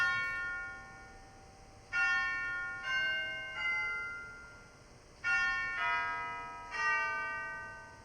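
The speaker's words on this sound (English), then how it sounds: "Nice full chimes, very good." Deep, full chimes of a 1975 Schlicker pipe organ ring out in five separate strikes in a church, each bright tone swelling then slowly decaying, with nothing else sounding in between.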